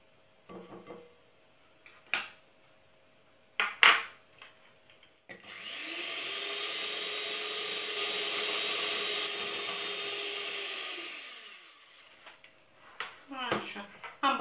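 An electric mixer whirs steadily for about six seconds while beating egg whites with salt for flaxseed bread. Scattered clinks and handling sounds come before and after, with brief quiet speech.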